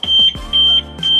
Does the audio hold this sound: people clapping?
no